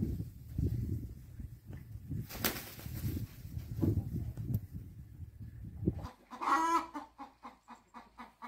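Free-roaming hens cluck and murmur close by in a farmyard barn setting, a busy run of soft overlapping clucks followed by a louder rhythmic burst of repeated calls.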